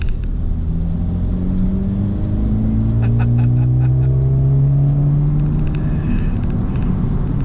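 Mercedes-AMG A 35 2020 accelerating hard in Sport Plus mode, its engine rumbling loud and close from inside the cabin, rising in pitch through the gears with brief dips at each shift.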